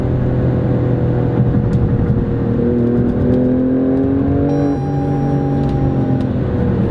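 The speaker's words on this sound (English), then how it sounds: "This is a pure Ferrari engine." The Ferrari-derived 505-horsepower engine of an Alfa Romeo Stelvio Quadrifoglio SUV revs and accelerates, its pitch climbing through gears, loud and close with a steady whirring roar throughout.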